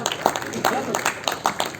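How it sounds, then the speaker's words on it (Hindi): Theatre hall audience at a Hindi comedy play clapping, heard as scattered sharp claps that come in uneven bursts over a murmuring room. "तालियां बजती रहनी चाहिए"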